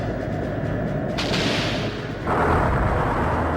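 Enemy cannon fire in Skies of Arcadia, a loud booming blast followed by a swelling roar that turns into a sustained rumbling explosion.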